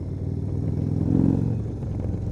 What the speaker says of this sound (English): And then you just power out that curve with that third gear, just rip on it.